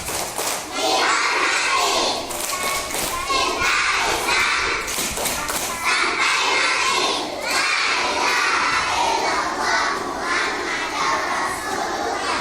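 A crowd of children at an Islamic school extracurricular session in Banda Aceh chants loudly in unison while clapping in rhythm, energetic and dense throughout.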